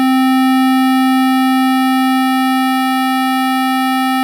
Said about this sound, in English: we're canceling that fundamental frequency that's coming in on the sine wave and removing it from the square wave sound